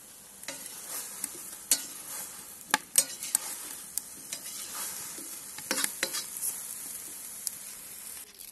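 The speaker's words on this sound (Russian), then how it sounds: "Дальше отправляем помидоры и обжариваем все вместе." Beef and tomatoes fry in a cauldron over a campfire, a steady sizzle broken by repeated sharp scrapes and clacks of stirring, close and alone with no voices.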